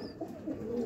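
Sheikh-type black-faced pigeons give a soft, low coo, brief and faint against a quiet background.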